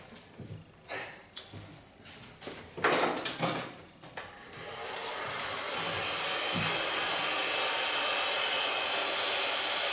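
A hair dryer blow-drying long hair with a large brush, starting after several seconds of brushing and handling noises and then running as a steady, close, continuous whoosh to the end.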